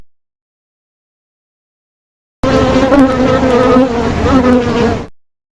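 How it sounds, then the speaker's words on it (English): A bee buzzes in a steady, dense drone that starts abruptly, holds for under three seconds, then cuts off, loud and close with no other sounds, in a children's animal sound set. "Bee."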